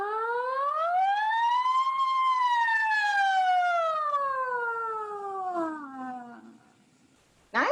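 A voice imitates a siren, one smooth sliding tone rising then slowly falling over several seconds before trailing off.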